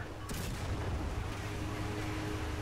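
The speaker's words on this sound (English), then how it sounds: "I'm just constantly popping off shots as soon as they become available" Tank cannon fire from a 76mm gun on an M6A1 heavy tank in War Thunder ground battles: a sharp blast near the start, then a dense rumbling roar of engine and combat noise that carries on throughout.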